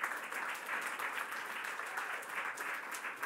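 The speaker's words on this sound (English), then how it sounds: "Round of applause for Adrian" Audience applause at a Google event on divesting from the bail industry, a dense, even wash of many hands clapping throughout, moderately loud with no voices.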